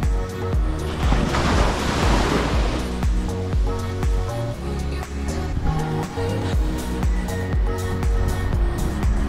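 Ocean waves wash onto a quiet sandy beach on Maui, a loud, continuous surf roar with a surge of breaking water early on, close and without talk.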